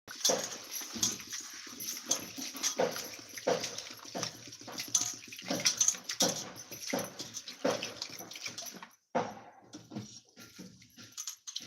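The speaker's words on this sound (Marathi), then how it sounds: "आता पाण्याने स्वच्छ धुन घेतो" Rice being washed clean in water, rinsed two to three times, with irregular sloshing, splashing and rubbing of grains in water filling most of the span, near and moderately loud, ending in a brief pause and a few final splashes.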